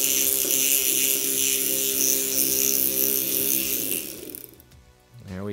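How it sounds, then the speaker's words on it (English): A grinder spins a flap-peening wheel under FlapSpeed PRO control with a loud, steady whirring and rapid flapping buzz that winds down and stops near the end. "So we'll be flap repeating for half a minute, and when we reach zero, the FlapSpeed PRO will stop the grinder automatically."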